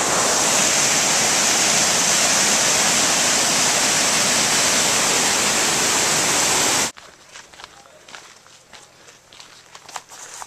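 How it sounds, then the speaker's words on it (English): Loud broadband rush of water close by at a lookout on the Tongariro Crossing, steady for about seven seconds before cutting abruptly to quieter outdoor ambience with scattered footsteps. "you might hear some water rushing"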